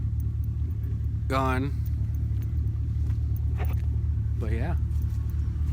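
An old Suburban truck's engine idles as a steady low rumble throughout, with a person talking briefly over it.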